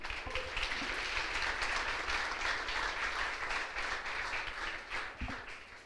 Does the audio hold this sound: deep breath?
no